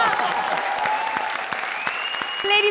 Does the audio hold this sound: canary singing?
no